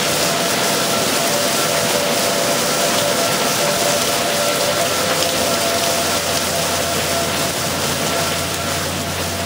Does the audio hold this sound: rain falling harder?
yes